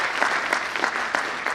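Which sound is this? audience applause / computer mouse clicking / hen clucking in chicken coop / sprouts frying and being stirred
audience applause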